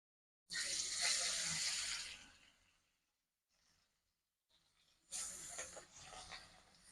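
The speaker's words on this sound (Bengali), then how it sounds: "কড়াই গরম হয়ে গেছে সর্ষের তেল দিয়ে দিলাম" Mustard oil hisses in a hot wok ahead of frying fish, a loud broadband sizzle for about two seconds that fades to near silence, then flares up again loudly toward the end.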